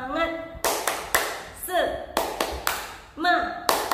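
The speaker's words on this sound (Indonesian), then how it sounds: "Kita kasih tepuk semangat" Young children in a kindergarten class perform a rhythmic clapping chant, sharp close claps in short patterned groups alternating with sung chant syllables from the group.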